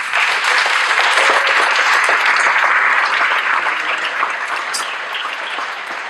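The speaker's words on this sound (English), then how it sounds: "I want to ask you to give another round of applause" Audience applause at a community gathering on race and the prison system in Fresno, a dense, steady burst of many hands clapping close and loud, tapering slightly toward the end with no voices over it.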